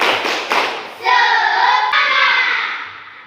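A few quick rhythmic claps at the start, then a classroom of Indonesian schoolchildren chants a clapping cheer together loudly before fading out.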